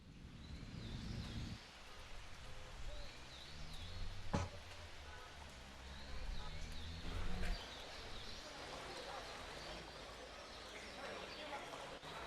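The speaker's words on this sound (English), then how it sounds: "A city in the bush might sound like this." An AI-generated soundscape of a city in the bush, a dense, fairly quiet mix of murmuring voices, clip-clopping, birds and rustling, punctuated by a couple of sharp knocks.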